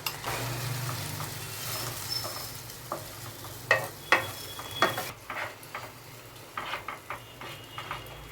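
Meat with yogurt, ginger-garlic paste and whole spices frying for Kayalpattinam Kalari curry, a soft steady sizzle with scattered clinks and scrapes of a stirring spoon against the pot.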